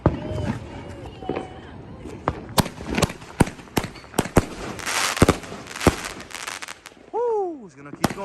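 A 29-shot consumer firework cake fires a rapid series of sharp booming bursts at close range, roughly a dozen loud cracks spaced irregularly over several seconds, with excited voices and whoops in between.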